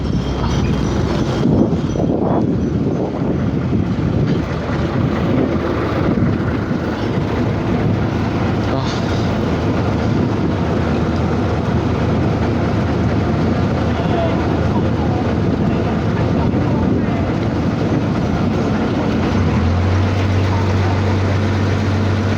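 A ferry boat crossing the river to the market on Koh Kret, Thailand, gives a steady low engine rumble and water wash with gusts of wind buffeting the microphone, continuous throughout, with muffled voices in the background.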